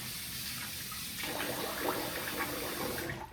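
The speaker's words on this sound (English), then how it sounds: "I'm gonna rinse the face." Water splashes and rinses steadily while a face is washed during a shave with a Gillette Tech aluminum safety razor, a continuous close wash of running and splashing water.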